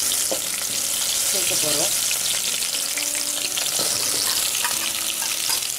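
Chopped onions sautéing in hot oil give a loud, dense, continuous sizzle close up, with a few stirring scrapes and a brief voice near the start.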